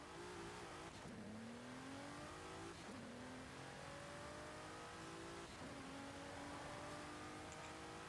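A Nissan GT-R Nismo races in Forza Horizon 5, its engine droning steadily with repeated rising revs through the gears, each climb cut off by a brief shift before building again, heard constantly without voices.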